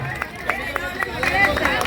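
Rhythmic, steady audience clapping at a Home Minister Paithani game held by a public Ganesh festival mandal in Tanaji Nagar, Bandongari, with sharp regular beats over constant crowd chatter.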